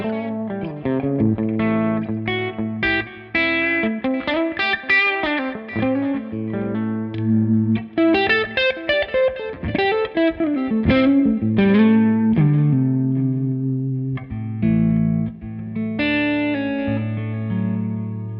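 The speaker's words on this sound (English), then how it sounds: "my guitar into my white anniversary Tonex pedal with this new tone model" Electric guitar played through a white anniversary ToneX pedal using a Bad Cat Cub 5 hand-wired boutique amp model, distorted chords and melodic runs with chorus-like shimmer and reverb, ringing clearly with short pauses between phrases and no talk.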